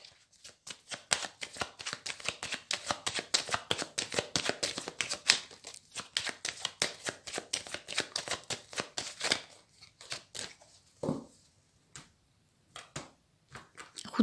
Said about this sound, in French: Alors, une coupe avec le tarot.